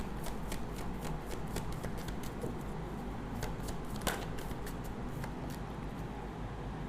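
Tarot cards shuffled by hand in a steady, close riffling patter that runs without pause, a dense papery flutter with no voices over it.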